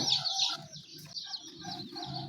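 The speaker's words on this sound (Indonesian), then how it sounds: "Nah, ini ayam pejantan ya, yang mau kita pindahkan ke kandang pembesaran." Young male broiler chickens about 26 days old cluck and peep on a probiotic poultry farm, giving a quick run of close, fairly soft calls with short gaps between them.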